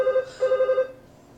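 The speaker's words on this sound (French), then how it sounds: "Il y a le téléphone des Manchatou qui a sonné." A telephone in the Manchatou family's home rings, two short electronic bursts with a brief gap between them, fairly clear and alone before fading out.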